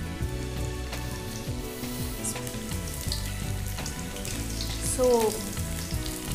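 Chicken pieces deep frying in hot oil give a steady, dense sizzle and bubbling crackle throughout, moderately loud and close, with faint background voices and a brief clink of utensils.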